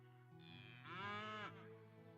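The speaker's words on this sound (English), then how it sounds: "Your cows are going crazy, man." A cow in the farming game Potion Permit gives one drawn-out, rising moo at a farm, loud and close over a steady bed of game background music.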